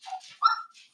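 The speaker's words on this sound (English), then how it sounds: "That's little Chihuahua." A small Chihuahua gives a couple of short, high yapping barks with a whiny edge, close by and otherwise alone.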